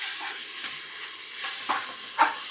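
Masala for mutton biryani sizzles and hisses in a pan, a steady steamy frying noise with soft scraping stirs that swell at intervals, close up and alone with no talk.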